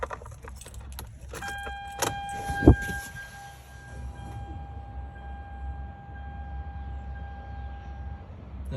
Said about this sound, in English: That's all I'm getting from fuel pump.